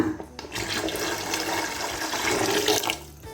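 Water is poured into a pot of tamarind fish head gravy in a steady, gushing stream that runs for about three seconds, close and full, with no talking.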